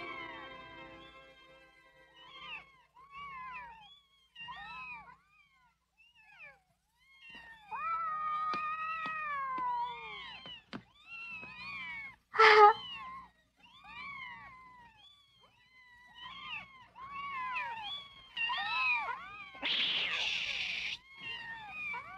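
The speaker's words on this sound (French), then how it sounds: "Des chatons." Several kittens mew in high, wavering cries, some calls short and others drawn out, coming in quick clusters with brief pauses and one sharp louder squeal, nearby and clear against a quiet background.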